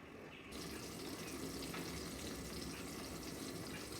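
Ginger garlic paste frying in a generous amount of hot oil for a fish curry gives a continuous, hissing sizzle at moderate loudness, steady from start to finish.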